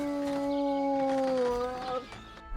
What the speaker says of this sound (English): Jeez, that dog's loud.